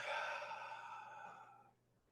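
A single deep breath out during a guided breathing exercise, a soft, airy sigh that fades gradually over about two seconds, close and quiet, with no talk.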